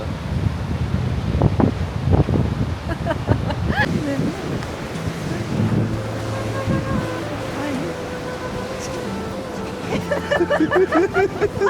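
Strong sea wind roars and gusts across the mic on a coast, with surf-like rushing beneath and voices drifting in and out.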